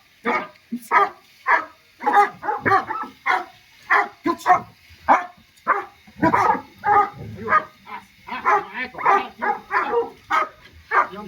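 A dog in training among other dogs barks again and again in loud, close bursts, the barks sometimes spaced and sometimes coming in quick runs, with a few whimpering yips mixed in.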